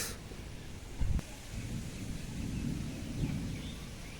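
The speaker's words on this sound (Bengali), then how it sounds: "দেখতে পাচ্ছ মেঘ ডাকছে।" A low rumble of thunder rolls in the distance during a windy rainstorm, with one brief deeper thud early on and a soft wash of rain and wind beneath it, no voices.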